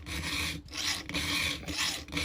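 A hand file rasps across the teeth of a .404 semi chisel chainsaw chain in repeated close strokes, each a steady grinding scrape broken by brief pauses between strokes.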